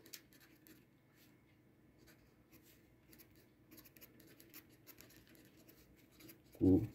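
A pen scratches softly across paper while someone writes on an electrical schematic for a simple electromagnetic relay signaller. Faint, irregular strokes run throughout, then a louder thump at the end.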